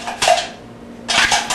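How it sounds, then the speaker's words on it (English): A scoop of powdered formula is stirred in a container: two short, loud, close scraping bursts separated by a brief quiet gap. "Stir it around."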